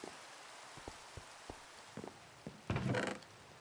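Rain falling in a video game, a steady soft patter of drops under sparse clicks and thuds, swelling into a louder, denser burst near the end.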